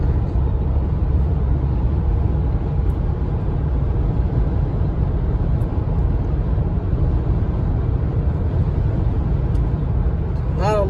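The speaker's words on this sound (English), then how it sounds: "Right now going about 70 miles an hour, and fairly quiet tires compared to the ones I had before." Inside a car cruising at about 70 mph on Michelin tires, a steady low roar of tire and road noise that holds unchanged and fairly loud throughout, with no distinct events.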